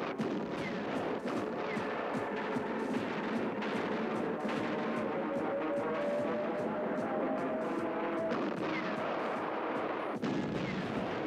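Heavy gunfire and artillery in a war documentary about the Red Army in summer 1941, a dense continuous barrage of shots and blasts with a loud burst near the end.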